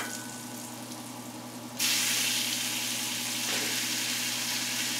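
Pork pieces dropped into a pan of garlic, vinegar, water and peppercorns for adobo, a sudden loud sizzle bursting in midway over a low steady hum, then frying on evenly, with no talk.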